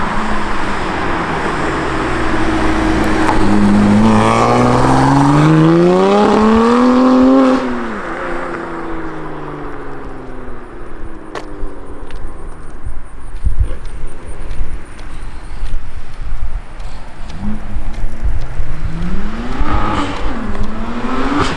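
BMW F80 M3 fitted with an Active Autowerke equal length midpipe, its exhaust swelling loudly as the car revs and pulls away, then fading into a steady drone before rising again near the end.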